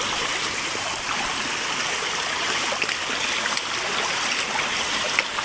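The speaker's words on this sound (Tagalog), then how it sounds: "Nagkaroon na bigla dito ng ano ng waterfalls. Biglang may waterfalls." Sudden waterfall runoff pours down during a typhoon in Isabela, a loud, constant broadband rush of falling water, close and unbroken, with no talking.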